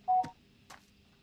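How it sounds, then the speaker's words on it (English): A text message notification in the horror game Little Hope: a short bright electronic chirp with a tonal blip, followed about half a second later by a softer second chime, alone over quiet background hum. "I just got a text message"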